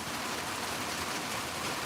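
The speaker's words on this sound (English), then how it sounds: "We have tin roofs and it's really starting to rain" Rain drumming on a tin roof, a dense even hiss of drops with no breaks, moderate and steady throughout.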